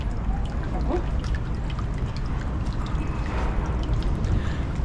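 Water poured for hand washing at a Japanese temple basin: a continuous close splashing trickle with bright dribbles throughout, over faint outdoor background.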